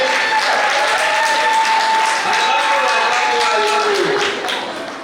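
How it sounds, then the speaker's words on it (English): A Diwali party audience applauds to welcome Chunky Pandey, with loud sustained clapping from a large crowd that carries on evenly before easing slightly at the end, with a voice faintly audible over it. "जोरदार तालियों से चंकी भाई का स्वागत कीजिए।"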